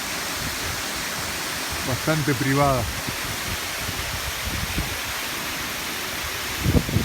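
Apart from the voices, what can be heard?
waterfall pool in the Azores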